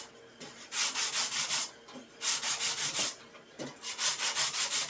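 180-grit sandpaper rubbed on metal for hot rod louvers in quick, rhythmic strokes, several bursts of scratchy friction separated by short pauses, close and fairly loud.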